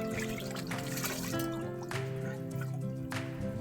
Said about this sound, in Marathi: डिसेंबरच्या महिन्यात पण असे झरे आहेत.